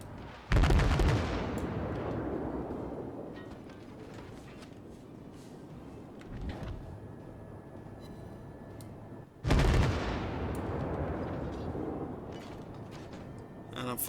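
Two heavy naval gun salvos firing high-explosive shells in World of Warships, each a loud, deep booming blast with a long rumbling decay, about nine seconds apart, with a faint voice talking in between.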